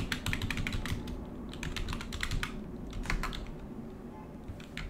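Rapid, uneven keystrokes on a computer keyboard as a password is entered for a new Arch Linux user, close and clear over a steady low hum, with short bursts and brief pauses.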